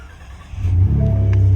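Ford F150 SuperCrew Lariat 4WD engine starting, a brief cranking sound that catches into a loud, close, rising rev and settles into a steady deep idle.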